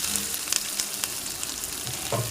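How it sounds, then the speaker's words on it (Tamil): Hot oil crackles and sizzles loudly in a pan of fried tomato masala as crab pieces go in, a dense close frying hiss with small pops. "இப்போ இதில் நம்ம வந்து அந்த நண்டை போடலாம் இந்த நண்டை இதில் போட்டுடலாம்"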